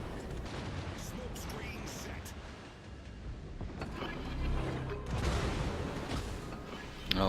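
Naval shellfire from cruisers in World of Warships, distant booming salvos and rumbling under a steady engine and water wash, with talk over it.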